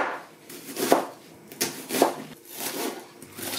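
Knife chopping an onion on a cutting board, a few distinct thuds spaced about a second apart, close and unhurried, with no talking.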